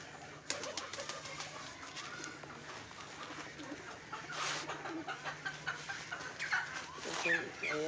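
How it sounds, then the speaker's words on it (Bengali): Pigeons coo and flutter outdoors near a loft, with scattered wing claps and soft calls over a busy background, and a person's voice partly audible among the birds. "বাইরে কিছু পায়রা আছে।"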